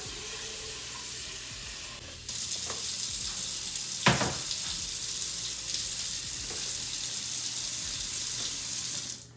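Tap water pours steadily into a cooking pot in a home kitchen, a constant hissing stream close by, with a sharp clink partway through and soft knocks, no talking.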